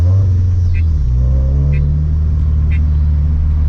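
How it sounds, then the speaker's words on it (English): A turbocharged Scion FR-S with a Greddy turbo on a stock motor rumbles loudly from inside the cabin during a rough takeoff, its engine drone rising in pitch, with faint turbo whooshes and periodic ticks. "Had a little rough takeoff right there"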